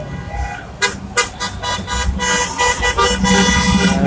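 A Maserati sounds its car horn in short, loud toots over steady street traffic noise at a roadside protest in Minden, Nevada.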